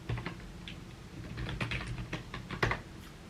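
A license key being entered on a computer keyboard, quick bursts of close, soft key clicks in an uneven rhythm, quiet, with no voices.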